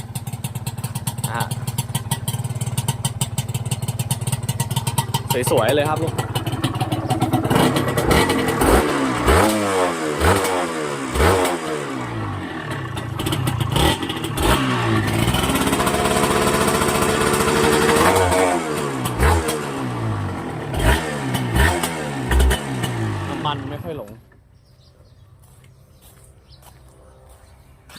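A 1997 Yamaha TZR150 motorcycle, freshly started and idling with a steady buzzing two-stroke note, revs up in repeated rising surges before dropping back to a quieter idle near the end, with brief talk nearby.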